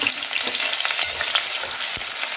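Chopped green chillies, cut into small rounds, sizzle steadily in hot oil during a baingan bharta preparation, a dense continuous crackle with a few sharper pops and stirring scrapes, close and alone without any voices.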